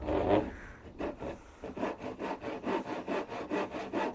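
A handsaw cuts through wood during a Sprinter van conversion build, working in a steady back-and-forth rhythm of about a dozen rasping strokes, close and fairly quiet, with no talking.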